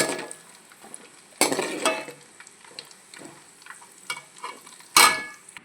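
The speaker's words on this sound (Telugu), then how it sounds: "నెయ్యిలో జీడిపప్పు కిస్మిస్లు బాగా దోరగా వేగించాలి." Cashews and raisins frying in ghee for carrot halwa, a soft crackling sizzle with spoon scrapes and two sharp louder bursts of stirring, close by with no talk.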